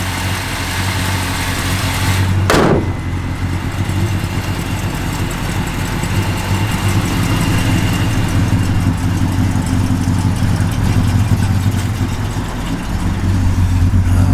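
A 1970 Plymouth Duster V8 with a mild cam idles steadily and loud up close, a low rumbling engine note throughout with a brief sharp noise near the start.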